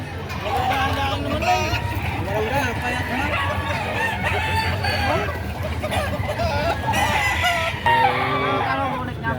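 Chickens cluck and a rooster crows amid a busy background of voices and crowd chatter at a chicken market in Padre Garcia, Batangas.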